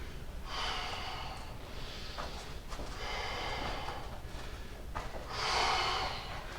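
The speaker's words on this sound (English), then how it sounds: "Don't forget about your breathing." Heavy, effortful breaths during an at-home workout, several loud huffing exhales in a steady rhythm close to the mic, with no talking.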